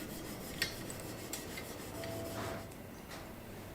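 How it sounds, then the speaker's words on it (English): Quiet scrubbing of 80 grit emery cloth against a steel bicycle down tube, a faint, close rubbing hiss with a few soft scrapes and no voices. "I give the down tube a good shine inside and out with some 80 grit emery cloth"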